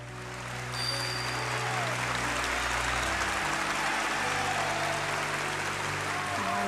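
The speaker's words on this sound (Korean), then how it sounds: "이 기립박수가 무려 12분 진행이 됩니다." A large audience gives Charlie Chaplin a standing ovation, with dense, sustained applause that swells and then holds steady.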